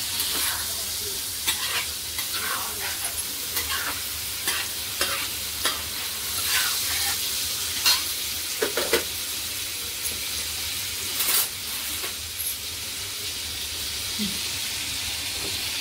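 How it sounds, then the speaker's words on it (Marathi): Finely chopped tomato fries in oil with liver for a tawa fry, giving a continuous sizzle broken by repeated scraping and stirring strokes of a spoon in the pan. "तर हा पण चांगला मिक्स करून घ्यायचा टॅमॅटो"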